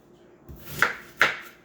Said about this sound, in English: Almost done cutting these nectarines